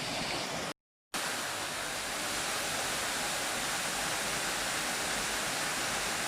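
Waterfall on a heavy, fast-running river stream near hot springs, a loud continuous roar of rushing water close by, broken only by a brief cut near the start.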